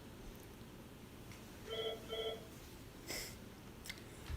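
A faulty phone console beeping at night, two short electronic tone bursts in quick succession followed by a brief noisy click, faint against a quiet room hum.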